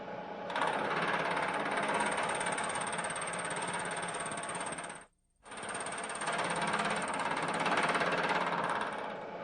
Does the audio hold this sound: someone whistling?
no